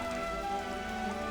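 Rain falling in Xenoblade Chronicles 3, a faint, steady patter of drops on surfaces under a soft tonal hum, with no voices.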